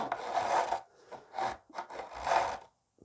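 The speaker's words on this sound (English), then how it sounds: "just to take the ends of those frets level with the fretboard to start off with" Guitar fret ends being filed down level with the fretboard on a fret job, close and clear: three long rasping strokes of the file on metal, each about a second, with brief pauses between and no talking.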